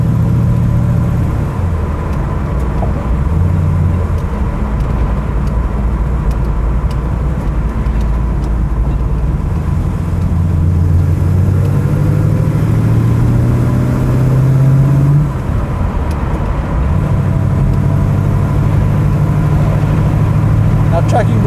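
A Ford GT40 engine drones and revs on the road, a loud, close, continuous low rumble with rising and falling pitch as it accelerates, while people talk over it.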